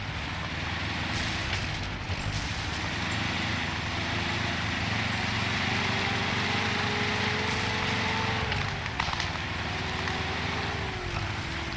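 Off-road truck in Spintires MudRunner, engine droning loud and steady with a rising and falling whine as it labors through mud, continuous for the whole stretch.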